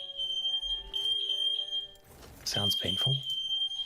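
Smoke alarms beeping indoors, a steady high-pitched electronic tone sounding in repeated pulses, briefly cut off then resuming while a person talks over it.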